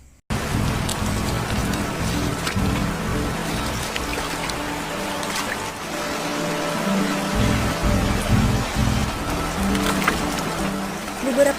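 Rain falls as a group crosses a river, a continuous hiss and patter of drops with low rumbling underneath, steady and moderately loud throughout.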